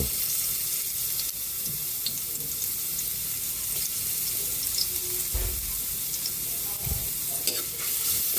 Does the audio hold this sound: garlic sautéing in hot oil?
yes